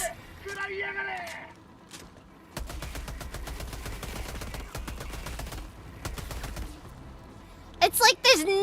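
Steady, low-recoil video game gunfire rattles in a dense burst of rapid shots across the middle of the scene, loud and close, with a brief pause and a final sharp volley near the end, while a person talks over parts of it.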